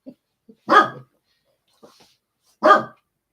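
A dog barks twice, loud and close, with a short pause between barks and a few faint small sounds in the gap, in an otherwise quiet indoor setting.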